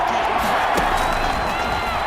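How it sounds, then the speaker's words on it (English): A stadium crowd at a football game roars steadily as a big third down approaches, a broad sustained cheer filling the space with a commentator's voice talking over it. "the crowd getting into it as we come up on a big third down"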